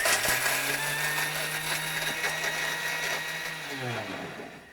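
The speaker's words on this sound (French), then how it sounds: "On va déjà mixer ça. C'est ça. Donc là, pleine puissance." A blender runs at full power grinding spices for a smoked pike-perch dish with fir cream, a loud steady whir that holds for several seconds before spinning down near the end.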